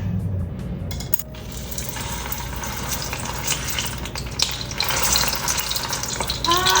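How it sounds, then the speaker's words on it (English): Spring rolls fry in hot oil at close range, giving a steady bubbling sizzle with occasional clinks and small splatters, and no voices. "I just put it in and it sizzled immediately as I put it in"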